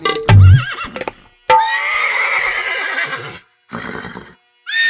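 A horse neighs loudly twice, a long whinny followed by a shorter one, with a low thump near the start and no voices, in a folk story where a rider has saddled a horse and mounted it.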